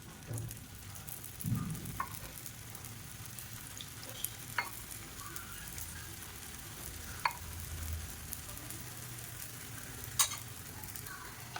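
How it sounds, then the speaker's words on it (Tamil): Appam batter fries in ghee and oil in a paniyaram pan, giving a faint, continuous sizzle with occasional sharp pops and crackles scattered through. "நான் வந்து இன்றைக்கி பனியாரக்கல்ல தான் எண்ணெய் ஊற்றி பொரிக்கிறேன்."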